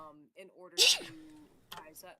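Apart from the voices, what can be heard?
sneeze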